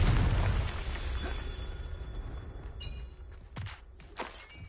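A Confringo spell blast in Hogwarts Legacy: a loud, rumbling explosive burst that decays into a low roar, followed by a couple of sharper magical zaps and crackles near the end.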